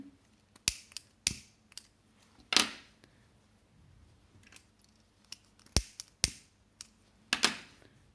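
Scissors snip excess yarn from a fringed towel edge, a series of sharp, close clicks and snips spaced irregularly over a quiet background.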